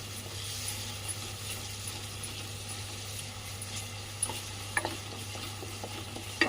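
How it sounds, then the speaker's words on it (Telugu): Ginger garlic paste fries with chopped onions and green chillies in a pan for mutton masala curry. A soft, steady sizzle runs throughout, with a few light stirring scrapes near the end. "మంచిగా వేగేదాకా వేసుకోవాలండి అల్లం వెల్లుల్లి పేస్ట్"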